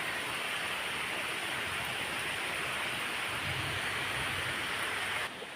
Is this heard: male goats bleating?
no